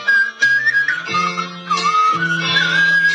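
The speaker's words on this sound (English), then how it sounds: "He's whistling with his throat." Sustained whistled tone with wavering pitch over a low droning hum, produced from the throat rather than the lips, loud and close.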